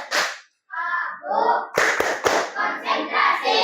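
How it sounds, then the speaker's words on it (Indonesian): Children in a primary school class perform a concentration clapping routine, chanting together between sharp, rhythmic hand claps close by. "Yuk, kita tepuk konsentrasi."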